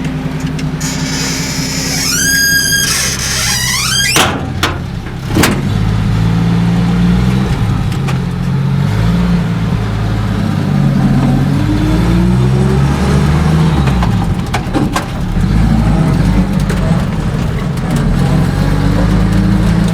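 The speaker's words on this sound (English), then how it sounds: "You turn that on, you turn your fuel pump on, you press your starter button, it jumps right to life." A 1949 International KB5 dump truck engine cranks over with a whirring starter, catches and settles into a steady, close, low running rumble that continues throughout, with some mechanical knocks and no talk.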